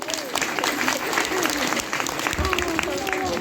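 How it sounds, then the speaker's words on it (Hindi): Audience applause at a Bhagavat katha, a dense, steady clapping from a crowd filling the whole stretch, loud and close, with voices faintly mixed in. "एक बार आप सबके लिए जोरदार ताली"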